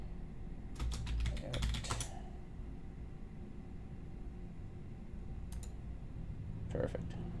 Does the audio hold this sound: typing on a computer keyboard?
yes